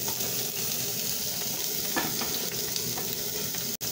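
Onions frying in oil for omena (dagaa), a dense, even hiss of sizzling oil running throughout, close and steady, with a brief dropout near the end and no voices.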